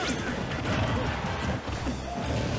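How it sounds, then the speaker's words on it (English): Glass breaking during a Super Smash Bros. match at a charity stream, a sharp crash at the start trailing into clattering hits over busy game sound. "I just heard glass break."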